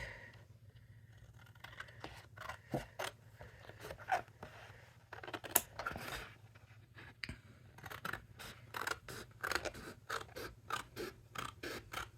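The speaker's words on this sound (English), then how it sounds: "Flip it over, cut along the card." Scissors cut along a paper card during papercraft with dies, giving a run of short crisp snips and scratchy paper rasps against a steady low hum, fairly close, with no talking.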